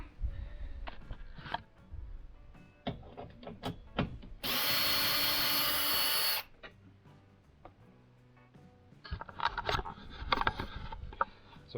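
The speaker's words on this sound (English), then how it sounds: "Right, just going to take these bolts out." Power drill backing out trim bolts inside a Toyota Prado: scattered clicks and handling knocks, then a loud continuous whir lasting about two seconds, followed by more close tool rattles and taps.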